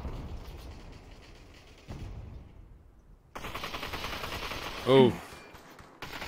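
Gunfire in the VR shooter Population: One sounds during a tower match. Faint, distant rattling bursts grow denser partway through, under a commentator's voice and a short exclamation.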